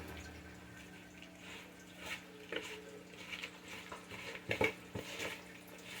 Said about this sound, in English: Stir this up with all that potting soil that I'm reusing.